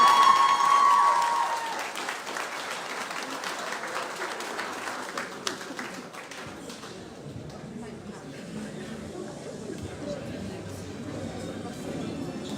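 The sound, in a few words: audience applause at graduation ceremony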